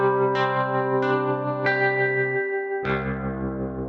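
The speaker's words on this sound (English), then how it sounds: "this RE201, this is the reverb section from a very well-known Roland unit you might recognize" Sustained, distorted guitar chords, each one struck and left ringing, run through a Roland RE-201 spring reverb plugin that adds a long, washy tail. Four chord hits sound alone with no talking.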